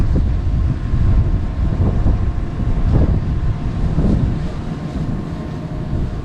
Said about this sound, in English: Super windy, so if it doesn't hit the landing pad, we're going to say it was because of this high wind.